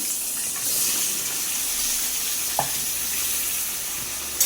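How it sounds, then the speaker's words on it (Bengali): Pointed gourd (potol) pieces frying in oil in a pan give a steady, moderate sizzle throughout, with a couple of faint clinks or scrapes and no talking. "পটলগুলো একটু ভেজে নিই,"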